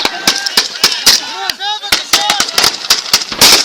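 Rapid close gunfire during an attack on a battalion position, loud sharp shots in uneven bursts with a whistling, warbling tone rising and falling between them.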